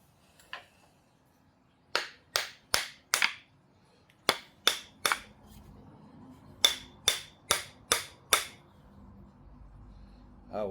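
A tool handle is struck sharply to drive it onto its taper, in three quick groups of four crisp, close blows each, with brief pauses between groups and faint rustling underneath.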